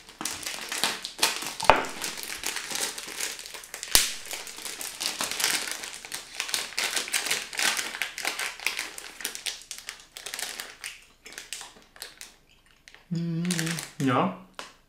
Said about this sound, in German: Das ist klasse, alle Tüten aufreißen.